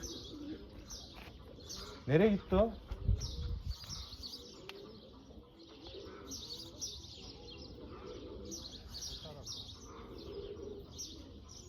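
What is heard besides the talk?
pigeons flying and cooing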